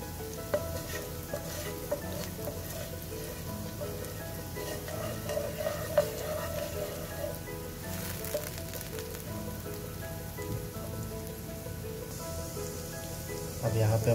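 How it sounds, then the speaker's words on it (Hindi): Green chillies and ginger fry in hot oil in a pan as jeera rice is prepared, giving a steady, even sizzle that holds throughout with faint clinks of stirring over it. "और ये हरी मिर्च इसको भी डाल देंगे, अदरक को शामिल कर देंगे, थोड़ी देर इसको भूनेंगे"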